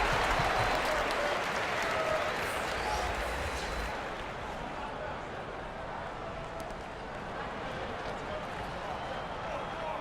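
Home crowd cheering and applauding in the basketball video game NCAA 2K19, a Michigan State versus Ohio State game, a dense, loud roar that fills the whole stretch and eases slightly partway through, with a commentator talking over it.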